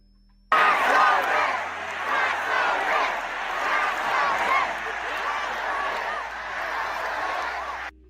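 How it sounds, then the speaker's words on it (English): A large crowd at a political rally chants and roars loudly and continuously after a sudden start, with voices blending into a dense, sustained wall of sound. "Commie Mandami had a big old rally here over the weekend, and the crowd didn't hold back"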